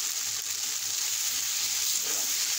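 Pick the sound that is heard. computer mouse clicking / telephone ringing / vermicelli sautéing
vermicelli sautéing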